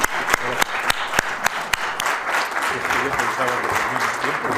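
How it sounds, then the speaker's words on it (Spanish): Applause from a seated audience closing a lecture on artificial glass in jewelry: a few loud, sharp single claps ring out close by at first, then a fuller round of clapping builds, with voices murmuring underneath. "despedirle con un fuerte aplauso porque se lo merece por estar aquí hoy"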